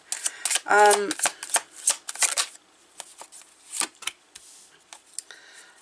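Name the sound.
shuffling cards for a reading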